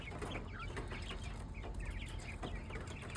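Several chickens clucking in short, scattered bursts over a steady low rumble of background noise, with the calls overlapping throughout.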